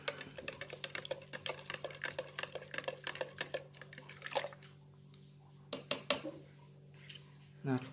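A spoon stirring hot water tinted with green food colouring in a kitchen bowl, producing quick clinking and sloshing taps in bursts, with someone speaking over the sounds.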